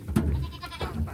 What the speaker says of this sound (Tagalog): Korean goat.